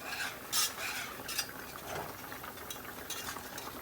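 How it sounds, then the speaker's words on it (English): A whisk scrapes the bottom of a pan of browning gravy made with caramelized onion and beef drippings, giving brisk rasping strokes over a soft, steady sizzle. "The more you scrape and whisk the bottom of the pan, the easier it'll pop up"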